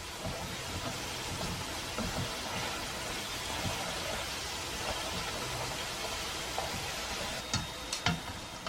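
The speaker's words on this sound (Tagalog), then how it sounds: "After 3 minutes, sprinkle some brown sugar and fry it for 3 more" Glutinous rice twisted doughnuts fry in oil with brown sugar, giving a steady, fairly quiet hiss that runs throughout, with a few faint clinks near the end.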